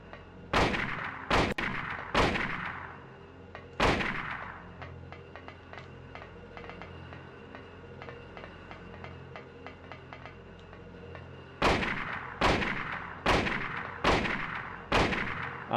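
Loud gunshots from Harry's handgun in the 1999 video game Silent Hill, a quick burst of several shots, a lone shot, then a steady run of shots after a lull of softer game noise.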